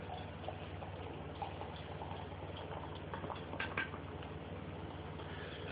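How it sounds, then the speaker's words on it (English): Samuel Adams The Vixen beer poured into a glass, a soft continuous gurgling and fizzing of liquid with small bubbly crackles, quiet and close. "We'll get a good pour on it here."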